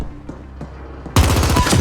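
Gunfire from the video game The Ascent: after a quiet stretch with a few soft thuds, a sudden loud burst of rapid, automatic shots rattles on continuously to the end.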